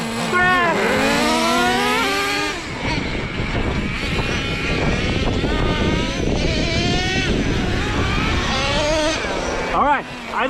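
A restored Traxxas T-Maxx nitro RC truck with a 3.3 engine races hard, its small engine screaming and rising and falling in pitch as it accelerates and backs off, loud and continuous throughout.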